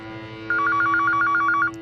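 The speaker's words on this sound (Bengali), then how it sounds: "কি আবার ফোন করলো?" A telephone rings with a single burst of rapid electronic trilling pulses lasting about a second, loud and close over a low steady hum.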